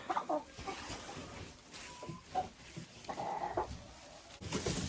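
Chickens cluck and murmur in a dacha enclosure, several birds close by giving short irregular calls over a quiet background.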